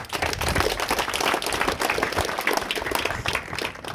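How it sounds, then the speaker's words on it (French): An audience at a speech applauds, with dense, steady clapping from many hands continuing throughout, moderately loud and fairly close. "Applaudissez pour lui."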